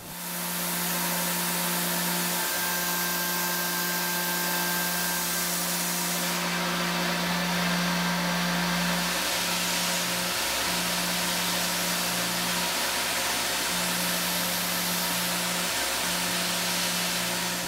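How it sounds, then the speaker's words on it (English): A 1/4 inch end mill takes a finishing pass while machining a quality control tolerance gauge, giving a steady, loud, continuous whirring hum with a sustained tone that barely changes throughout. "Taking care of the finishing with our 1/4 inch end mill."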